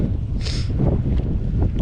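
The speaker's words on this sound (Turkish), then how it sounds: "Bir de acayip rüzgar var." Strong, cold wind on a cycling route between Sivas and Erzincan buffets the microphone in a continuous roaring rush, loud and close, with no voices.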